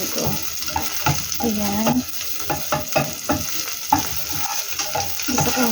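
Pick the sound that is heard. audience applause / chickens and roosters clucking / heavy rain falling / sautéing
sautéing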